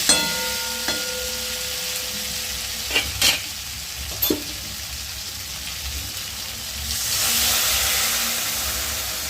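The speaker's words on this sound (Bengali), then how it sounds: "এই সময় আমি এর মধ্যে দিয়ে দেবো জল" Water poured over potatoes and pointed gourd frying in a pan for a Bengali fish curry. A steady sizzle is broken by a few sharp clatters, then a loud hissing rush of steam near the end.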